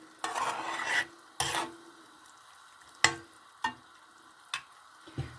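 Carrots frying in oil in a pan, a soft steady sizzle broken by several sharp scraping strokes of a utensil stirring, close and quiet with no talking.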